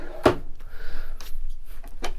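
A utensil drawer in the kitchen of a 2003 National Tropical RV, opening and closing with a sharp wooden knock followed by quieter sliding clatters and another soft thump.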